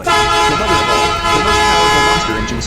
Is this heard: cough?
no